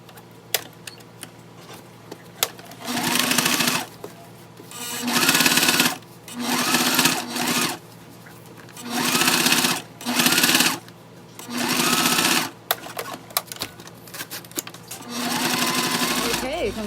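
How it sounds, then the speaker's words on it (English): A sewing machine top stitches across a fabric waist bag (fanny pack) in several bursts of steady whirring, near and loud, with short pauses between runs. "we're going to go ahead and top stitch right here on this one all the way across"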